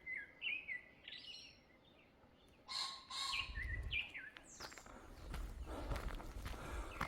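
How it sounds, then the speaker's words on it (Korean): Small birds chirp and trill in short bright phrases on a rocky mountain trail near the Yeongamsa temple site on Hwangmaesan, faint and a little distant, mixed with footsteps crunching along the path. "새소리도 들립니다"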